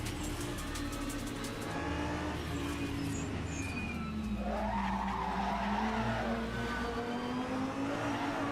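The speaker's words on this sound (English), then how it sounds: "That's how you warm up your tires." Race car tires squealing and skidding as the driver weaves to warm them up, a continuous loud screech over a steady engine drone with shifting pitch, no talk.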